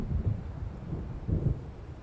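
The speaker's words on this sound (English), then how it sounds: "It seems there's a storm coming." Low rumbling thunder from an approaching storm near a lake in the game Alan Wake Remastered, two deep rolling swells heard close and heavy with no voices.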